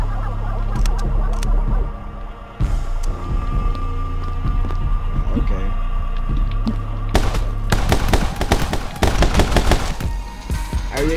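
Dual-wielded pistols firing in the action shooter game My Friend Pedro, rapid sharp gunshot bursts over a steady game music bed, growing denser and louder toward the end, with goose-like honking game sounds mixed in.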